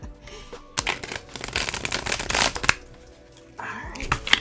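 Tarot cards are riffled and shuffled close by in quick bursts of crisp flapping, with a short pause before another round of shuffling.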